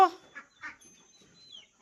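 Kadaknath hens on a small farm give a few short soft clucks in a quiet setting, with faint chirps between them.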